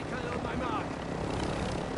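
Helicopter rotor and engine noise from a Call of Duty: Warzone 2 match, a steady broadband drone that persists for the whole short span with voices faintly mixed in.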